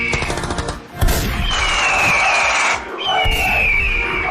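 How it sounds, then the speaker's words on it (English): Loud two-stroke scooter engine fitted with an aftermarket exhaust revving hard, a harsh rasping crackle that dips briefly and then rises into a sustained high-pitched wail that climbs and falls, close and dominating. "Hear that? It's the sound of two-stroke power"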